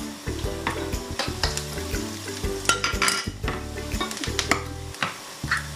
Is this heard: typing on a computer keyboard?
no